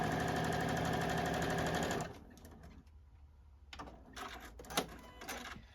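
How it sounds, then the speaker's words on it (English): A JUKI sewing machine stitches a cord onto a Santa ornament, a fast steady mechanical whir for two seconds that stops, followed by quiet handling and a few soft clicks and short bursts. "So I am sewing that cord in place"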